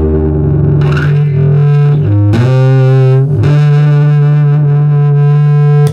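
An acoustic guitar runs through a Big Muff distortion pedal, producing loud, thick, sustained fuzzy chords with a heavy bass, changing pitch a few times and ringing on without a break.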